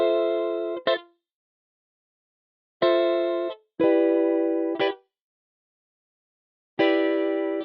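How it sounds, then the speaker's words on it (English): Guitar chords from a VST instrument, triggered by MIDI with effects off, ring out in four short bursts separated by silent gaps. Each chord starts sharply, sustains briefly, then stops clean with a small pluck at the end. "So I started off with these guitar chords right here."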